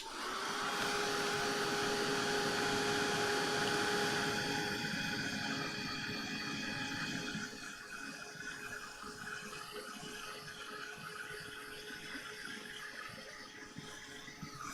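A heat tool or dryer blowing steadily to dry paint, a loud continuous whirring rush that drops to a lower, fainter level about halfway through and keeps running to the end.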